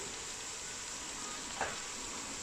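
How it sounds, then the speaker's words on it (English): Spices frying in a family-size pot for Kashmiri chicken dhansak make a faint, steady hiss, with one brief soft clink partway through. "And I'm going to fry the spices."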